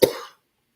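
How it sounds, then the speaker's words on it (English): A single sharp cough, close and abrupt, fading quickly into silence. "the reason I'm coughing so much"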